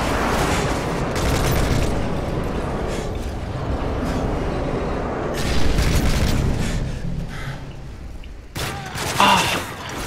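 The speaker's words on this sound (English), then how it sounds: "Delta airstrike on the way." Airstrike explosions in the Call of Duty MW3 video game: a dense barrage of booms and rumbling blasts rolling on for several seconds, swelling louder near the end, with scattered gunfire and no talk.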